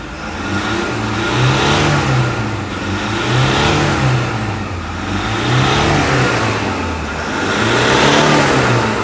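A Toyota Fortuner with a 1KD diesel engine, freshly repaired injectors fitted, revs up and down repeatedly in steady swells, loud and close with no talking.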